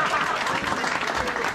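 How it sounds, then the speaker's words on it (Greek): A crowd applauds at a gathering on the island of Meganisi, a short burst of loud, continuous clapping with faint voices mixed in. "Χειροκροτήστε με."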